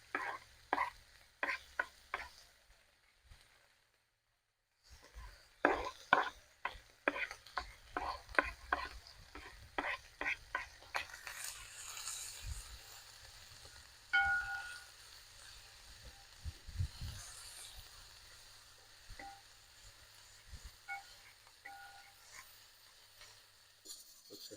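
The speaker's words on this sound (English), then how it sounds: "now I just added the onions" Onions frying and being stirred in a pan for lamb biriyani, with sharp scraping stirs and clinks giving way to a steady soft sizzle, close and fairly quiet.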